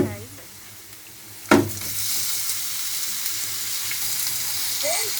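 Beef pieces hit hot oil with fried onion in a pan for a Noakhali-style curry with jackfruit seeds, a sudden sharp sizzle burst that settles into a steady close frying hiss with occasional stirring.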